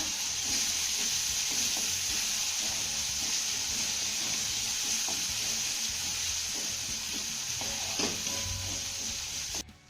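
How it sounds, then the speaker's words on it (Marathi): Chopped onion and tomato sautéing in a pan for a bottle gourd dish, a continuous bright sizzle with soft scraping stirs throughout, close and fairly loud, ending abruptly, no talking. "टोमॅटो देखील चांगला मौसूद परतून घेऊया"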